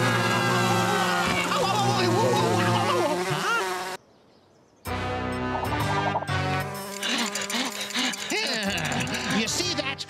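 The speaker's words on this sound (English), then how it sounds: "You got me all worked up over some silly flies." Flies buzz and whine insistently up close, mixed with animated voices, with a brief silent gap partway through.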